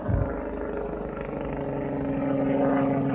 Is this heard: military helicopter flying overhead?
yes